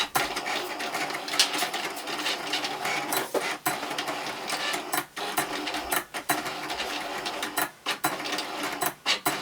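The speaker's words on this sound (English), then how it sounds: "So now the machine is going to cut out my vinyl decals for my black and white vinyl" A vinyl cutting machine cutting black and white vinyl decals for bookmarks, a steady close mechanical whirring with rapid rhythmic clicking and brief pauses as the blade head moves.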